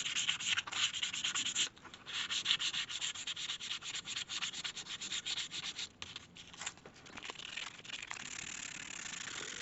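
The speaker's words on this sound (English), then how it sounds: "so I've completed the 120 sand down. Now I'm going to go to 220." Steady scratchy rasp of sandpaper rubbed back and forth over wooden knife scales, continuous with brief pauses, close and fairly loud.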